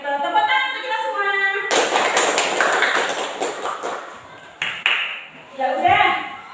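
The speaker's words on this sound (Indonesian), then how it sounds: "Tepuk tangan untuk kita semua." An Indonesian classroom of children claps together after a chant, a burst of close, dense clapping that stops abruptly, with a ringing tone and voices heard before and after.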